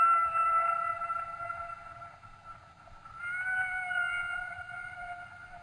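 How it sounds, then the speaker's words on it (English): A recorded humpback whale call: two long, wavering tonal moans separated by a short dip, clear and resonant over a faint low rumble. "that's the type of baleen whale it is a humpback whale"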